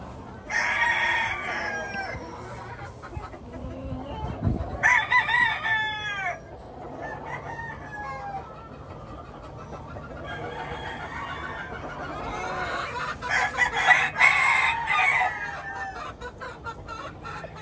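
Clarete gamecock roosters crow loudly and repeatedly nearby, several drawn-out cock-a-doodle-doo calls with clucking between, in a farmyard setting with no talk.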